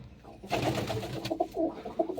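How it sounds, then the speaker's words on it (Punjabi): Pigeons just let loose inside a new loft coo in repeated throaty pulses close to the microphone, starting after a brief flutter and continuing in an uneven, overlapping rhythm. "ਛੱਡਤੇ ਆ ਕਬੂਤਰ"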